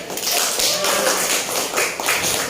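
Brief burst of audience clapping in a classroom teaching session, a dense run of hand claps over about two seconds, close and fairly loud.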